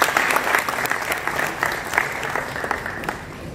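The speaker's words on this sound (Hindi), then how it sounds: "एक बार जोरदार तालियां हो जाए." Loud, enthusiastic applause from a crowd at a Teachers' Day celebration, many hands clapping in a dense, steady burst that gradually eases off.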